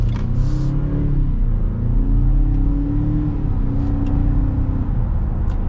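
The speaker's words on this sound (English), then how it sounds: "now we are going to be getting our full-blown acceleration here with the Ranger" A 2021 Ford Ranger Lariat pickup truck accelerates hard from inside the cabin, its engine drone rising steadily in pitch with a quick gear shift partway through, loud and continuous.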